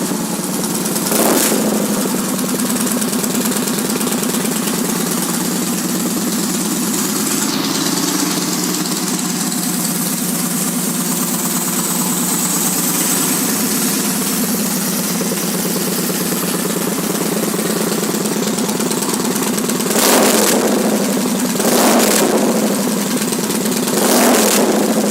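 A red 2011 Polaris Victory Vegas motorcycle with a six-speed transmission sits at a steady, loud idle, then gives a few short blips of the throttle near the end, with no talk.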